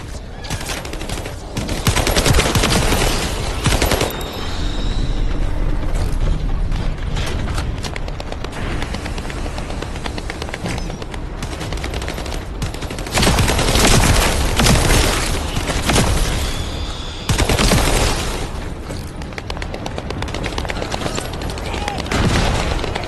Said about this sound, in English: Assault turret activated.